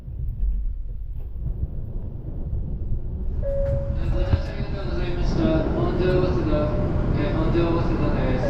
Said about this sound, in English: The bullet train called the Shinkansen in Japan.